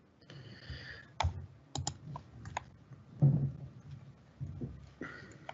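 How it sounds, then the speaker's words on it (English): Typing on a computer keyboard, scattered bursts of sharp key clicks and taps with pauses between them, close and fairly quiet, with faint low murmuring in the background. "Should be able to start typing."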